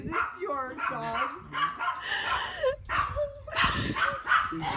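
A puppy yips and barks in short bursts close by, with whimpering between them, while people talk excitedly over it.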